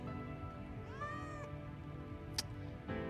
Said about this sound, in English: What's up with the awesomely animated cat?